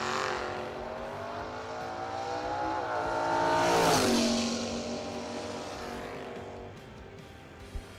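A Chevrolet Camaro engine revs loudly at a car show, its pitch sweeping up and swelling to a peak midway before easing back into a steady, rumbling idle.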